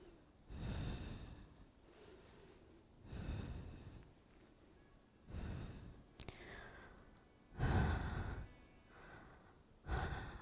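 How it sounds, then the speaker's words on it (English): Slow, deep breaths during a yoga class with the feet raised above the heart, soft airy inhales and exhales repeating about every two to three seconds, quiet and close. "Breathing here."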